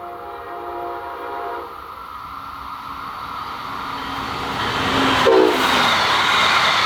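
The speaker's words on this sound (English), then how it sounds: "Bright green is the train here." Bright green Brightline passenger train near the Jensen Beach Boulevard crossing in Jensen Beach, its rumble swelling as it approaches, with a loud horn blast partway through and continuing after.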